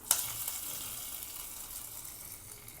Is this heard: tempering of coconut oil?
yes